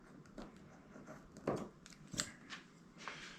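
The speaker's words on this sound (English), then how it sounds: "Looks like scissors are a little bit more convenient here." A few quick, crisp snips of scissors cutting keel guard tape, with soft rustling in between, close by and fairly quiet.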